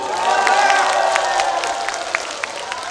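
Festival crowd at the Sunchang fermented sauce festival cheers and applauds a trot singer, a dense sustained roar of clapping and voices up close, easing slightly toward the end.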